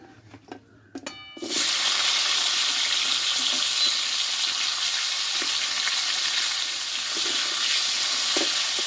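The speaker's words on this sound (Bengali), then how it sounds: "খুব অল্প আছে সিমগুলোকে আমি ধুয়ে দিয়ে কষে নেবো একটু" Washed flat beans hit a pan with turmeric and salt, setting off a sudden loud, dense sizzle after a few quiet clinks, then a steady close frying hiss with faint stirring, no voices.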